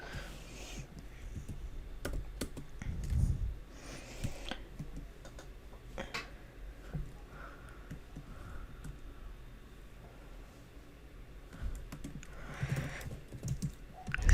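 Quick, uneven bursts of computer-keyboard typing as C++ code for nested for loops is entered, close and fairly quiet, with short pauses between clusters of key clicks.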